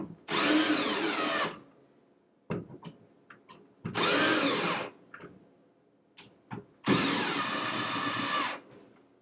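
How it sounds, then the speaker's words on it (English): A cordless power drill drives screws into acrylic panels. Three separate whirring bursts of about a second each ring out close and loud, with quiet clicks and handling noises in the pauses between them. "I'm going to put these screws in not quite all the way"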